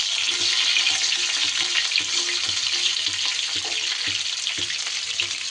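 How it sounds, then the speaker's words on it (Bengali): Pieces of pointed gourd (potol) frying in a pan for a potato-potol korma, producing a loud, continuous hissing sizzle with faint intermittent clicks beneath it. "পটলগুলো দিয়ে আগে আমি সুন্দর করে ভেজে নেব।"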